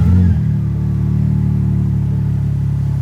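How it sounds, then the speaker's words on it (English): A BMW G80/G82 M4 engine cold starts with its exhaust valves open: a short, loud flare at ignition, then settling into a steady, droning high idle close by. "At that point, you can fire it up because the valves will be open."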